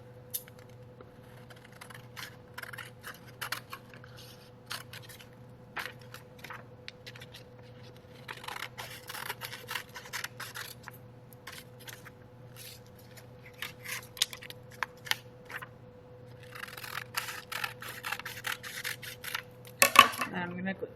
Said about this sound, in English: I'm going to cut on the dotted lines